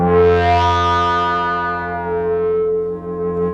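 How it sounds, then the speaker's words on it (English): A distorted, sustained electronic drone from a Bopp & Steve Deconstructed Reverb module's feedback, with bright twinkling overtones shimmering on top, loud and steady with slowly fading high sparkle. "sounds like sort of distorted feedback, just twinkling with the feedback length."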